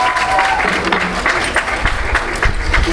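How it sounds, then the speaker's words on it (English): Crowd applause at a fourth-grade student council event fills the clip, many hands clapping steadily with a few sharper individual claps standing out near the end. "Let's give him a round of applause"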